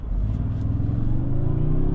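A 2026 Toyota Sequoia Platinum accelerates hard, a steady loud engine drone rising smoothly in pitch as it gains speed, heard from inside the cabin with no talking.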